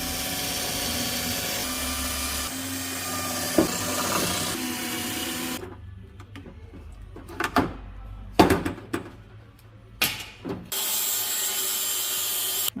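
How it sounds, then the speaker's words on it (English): Drilling out spot welds on a VW T4 van body panel: a steady grinding drill whine for several seconds, then intermittent short bursts of metal scraping and knocks with quiet gaps, ending in another sustained drilling stretch. "I'm going to drill all these lot out and see if we can start to separate all this lot"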